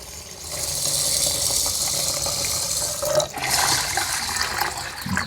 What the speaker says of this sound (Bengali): এবারে চালটা ভিজিয়ে নেওয়া হলো